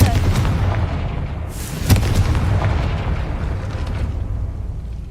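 A Confringo fire spell explodes in the Hogwarts Legacy video game, a loud, dense roaring blast with a sharp crack partway through, followed by rumbling that slowly fades.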